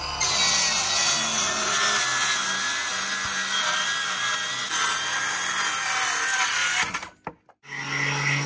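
A wooden cornhole board being sawn from its unprimed, unsealed side: a loud, steady, continuous buzz of cutting runs for about seven seconds, then cuts out abruptly and the tool coasts down.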